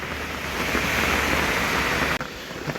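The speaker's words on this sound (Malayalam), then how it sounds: "ഇപ്പം ഈ പെയ്യുന്ന മഴയിൽ ഇടിയും കാര്യങ്ങളൊന്നും ഇല്ല" Steady rain pours down without thunder as a dense, even hiss that continues throughout, briefly dipping near the end before resuming.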